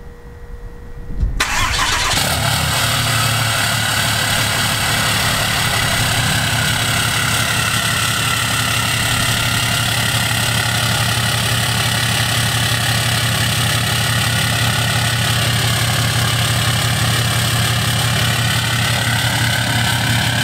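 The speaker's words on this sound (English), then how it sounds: "starting this truck" A 2018 Ram pickup's 6.7-liter Cummins diesel engine cranks briefly and fires up, then settles into a steady, loud, rumbling idle that continues without pause. No one speaks.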